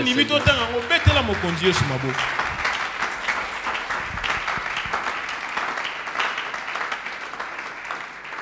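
A church congregation at a Sunday worship service breaks into loud, sustained applause, rising after a voice and music fade and continuing as a dense, steady roar of clapping to the end.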